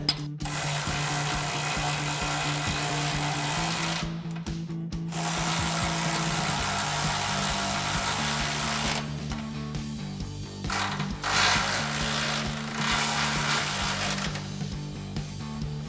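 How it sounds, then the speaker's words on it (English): A ratchet with an 18mm socket tightens the front bumper bracket bolts on a RAM 2500 pickup, giving a loud, continuous clicking and whirring of mechanism nearby with brief pauses between runs. "Now we'll go ahead and tighten down our main bracket bolts using our 19mm wrench and an 18mm socket on our ratchet."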